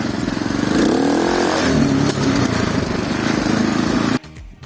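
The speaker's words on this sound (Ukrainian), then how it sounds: "У мене квадроцикл їде куди-небудь." A quad bike (ATV) engine drones steadily while driving over a bumpy harvested potato field, loud and close with shifting pitch as it rides over ruts, then the engine noise drops away abruptly near the end.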